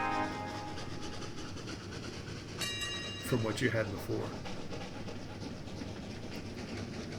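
Trains rolling along tracks in the video game Train Valley, a faint, steady rumble and clatter with a brief horn-like tone partway through, heard under someone talking.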